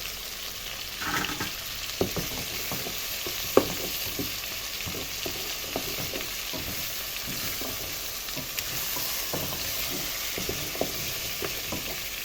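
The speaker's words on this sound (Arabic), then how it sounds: "برضو تشوح معلقة الصلصة كده شوية" A spoonful of tomato paste sautéed with spices in a pan for kabsa, giving a steady close sizzle under repeated scraping and stirring strokes, no voices.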